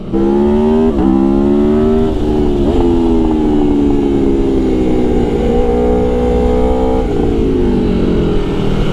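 A 2019 Aprilia Tuono V4 1100 Factory motorcycle accelerates hard through several gear changes, its loud, close engine climbing in pitch with each gear and never breaking off.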